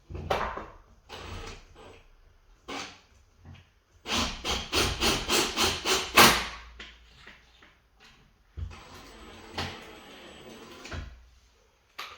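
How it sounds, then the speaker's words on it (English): Rubber mallet knocking on a sliding door roller on a 1980s–2010s Jason Glass door, a quick run of sharp evenly spaced taps among scraping and sliding handling noises. "Rubber mallet, not a hammer."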